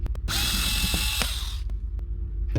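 A power drill removes a screw from an IKEA drawer: a single loud, close whir lasting about a second, framed by sharp clicks and knocks against the furniture.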